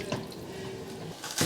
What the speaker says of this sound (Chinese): 焯好水，先用凉水洗一下